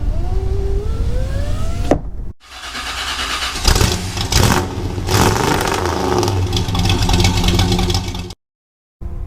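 Electric window motor on a 2002 Nissan Xterra whines with a rising pitch, then gives way to a dense, loud mechanical rush that ends abruptly.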